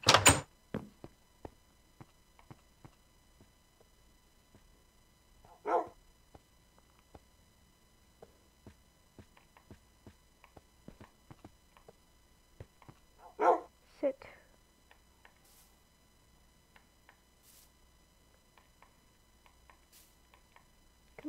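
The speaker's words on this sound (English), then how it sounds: "Come on, doggy, let's go outside." A dog gives a few sharp, isolated barks spaced several seconds apart in a quiet indoor room, with faint ticking and small knocks between them.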